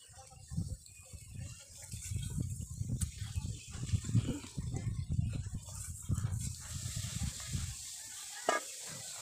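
Small fish going into a pan of eggplant curry give a soft frying sizzle, with intermittent stirring scrapes and low background noises throughout.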